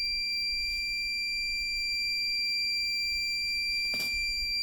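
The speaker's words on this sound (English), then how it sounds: "Don't know if you could tell that difference in tone of the alarm." The low-voltage alarm on a scooter battery project sounds as a continuous, steady, high electronic tone, loud and unbroken, with a brief thump near the end.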